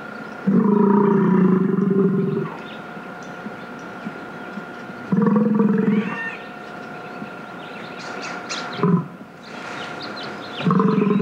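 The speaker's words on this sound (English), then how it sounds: "At certain times of the year, male bison challenge each other with roaring noises." Male bison on Catalina Island roar in a seasonal challenge, giving long, deep, throaty bellows of about two seconds each, then a shorter grunt and another rising roar, loud and near.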